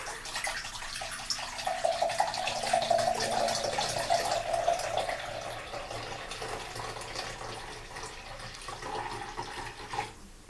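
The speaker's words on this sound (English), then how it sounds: "So we're going to add our beef broth." Beef broth pours steadily into a bowl of cornstarch for a gravy slurry, a continuous close liquid splash and trickle lasting about ten seconds with no talk.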